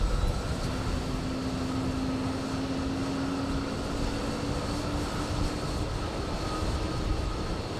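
Jet airliner engines spool up for takeoff at JFK, a steady loud roar with a rising whine held throughout, no voices over it.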